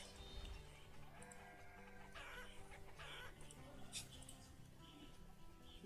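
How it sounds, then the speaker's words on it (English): Chickens clucking in a village farm in the game Banished, soft intermittent clucks and squawks spread over a low ambient bed, with brief brighter calls now and then. "A lot of chickens,"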